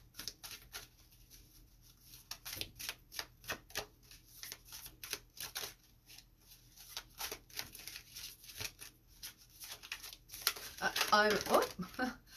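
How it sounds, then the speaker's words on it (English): Tarot cards shuffled and pulled from a deck, producing quick dry flicks and taps in irregular bursts, close and fairly quiet, building to a denser riffle near the end, with a voice talking intermittently. "So let's just pull out a few more cards for you, Taurus."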